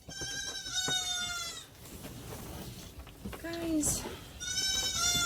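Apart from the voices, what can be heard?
goats bleating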